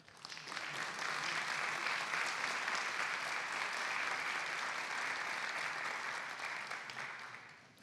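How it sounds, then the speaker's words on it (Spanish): Sustained audience applause at a sustainable-mobility forum panel in Mexico City, welcoming a panelist: dense, steady clapping from many hands that swells quickly, holds for several seconds, then tapers slightly toward the end. "Un fuerte aplauso, por favor."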